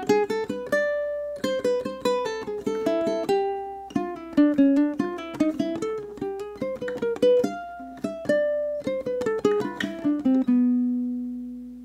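Low G and baritone ukulele picking out the opening melody of a Venezuelan waltz, bright plucked notes in lilting phrases, close and clean, ending on a held low note.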